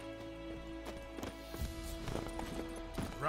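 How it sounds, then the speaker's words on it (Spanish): Clip-clop of a horse's hooves from The Witcher 3: Wild Hunt, a moderate-paced trot of soft, irregular thuds over a quiet ambient hum, getting louder toward the end. "Caballo."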